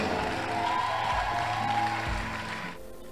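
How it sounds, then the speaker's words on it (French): A church congregation applauds during a testimony service, producing a sustained wash of clapping that blends with a held musical tone and room hum, then fades out toward the end. "Applaudis pour Jésus, non?"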